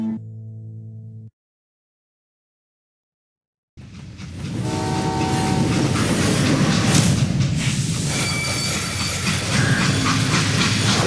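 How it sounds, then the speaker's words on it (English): A freight train in the Call of Juarez Gunslinger video game rumbles loudly and steadily along the track with a sounding horn, entering after a brief tone and a moment of silence. "They hopped a freight train,"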